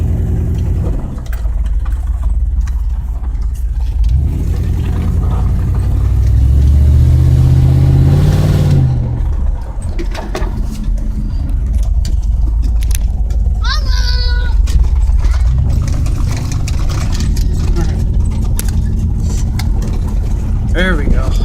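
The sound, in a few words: car exhaust while driving around the block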